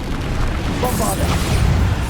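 A Bombarda blasting spell from Hogwarts Legacy goes off in a dense rumbling boom with crackling bursts, loud and close amid ongoing battle noise and a voice calling out.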